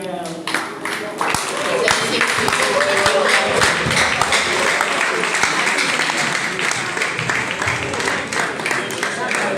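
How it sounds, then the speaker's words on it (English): A crowd at a reality show grand finale in Lagos breaks into a sustained round of clapping and applause for nearly ten seconds, with voices talking over it. "That is a round of applause, please"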